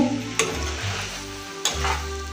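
Fried fish head and banana flower are stir-fried together in a pan, giving a steady close sizzle broken by two sharp scrapes of the spatula against the pan, with no talking.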